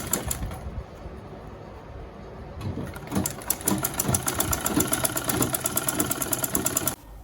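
Sewing machine stitching crinoline onto a structured cape, a steady close-up mechanical hum with rhythmic needle chatter that intensifies midway and cuts off near the end.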